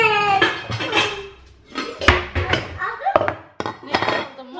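Metal pots clank and clink a few times close by in a kitchen, with a voice talking over the clatter.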